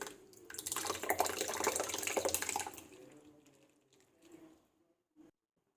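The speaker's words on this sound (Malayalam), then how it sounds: "തൈര് ഒഴിച്ച് കൊടുക്കാം." Curd poured from a packet into milk to set it for homemade ghee, a splashing, gurgling pour for a few seconds that thins to trickles and a soft tap.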